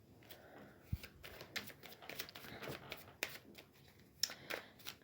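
A Belline oracle card deck is shuffled by hand, quiet papery riffles and soft slaps of cards coming in irregular bursts, close and faint.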